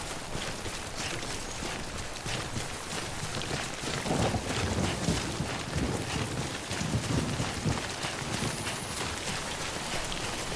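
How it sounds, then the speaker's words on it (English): Steady rain falls in the video game Death Stranding, a dense, continuous hiss of drops with a low rumble beneath, swelling slightly midway and holding at even strength. "Okay, it's starting raining. Starting to rain."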